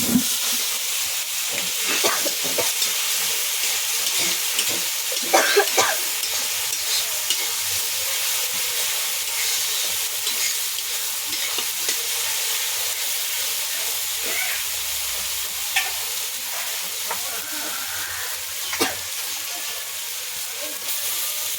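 Shidol shutki, dried fish, sizzles and hisses in a hot pan while being stirred, with occasional utensil scrapes and taps over the steady frying, close up.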